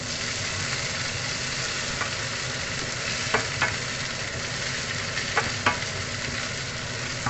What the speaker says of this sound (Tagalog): Sama natin sa pag-fried ang capsicum